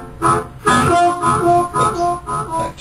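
Harmonica through a Fab Echo pedal set to short slapback delay with mix at halfway, a few loud reedy phrases with quick doubled repeats trailing each note.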